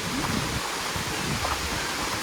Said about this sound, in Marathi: आवाज तर येतच असेल तुम्हाला बॅकग्राऊंडला. पहिल्या धबधब्याच्या इथे पोचलेलो आहोत.